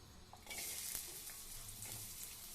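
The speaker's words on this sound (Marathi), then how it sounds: "आणि कांदा भाजून घ्यायचा आहे आपल्याला." Chopped onion drops into hot oil in a kadhai for a village-style egg curry and fries with a loud, steady sizzle, with faint stirring clinks over it. No one speaks.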